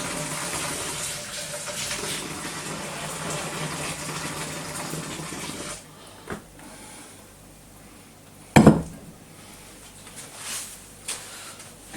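Liquid rinsed from homebrew kit cans poured into an Imperial Russian stout brew, a steady gushing splash for about six seconds, then quieter with a few brief clunks and knocks.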